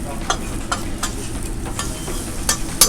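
Scrambled egg and bacon stirred with a fork in a frying pan: a steady close sizzle with several sharp scrapes and taps of the fork against the pan, the last ones loudest.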